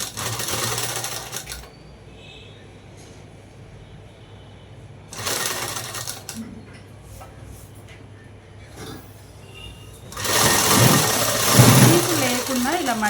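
A sewing machine stitching a dress runs in three separate bursts of close whirring, with someone speaking in the quieter gaps between them.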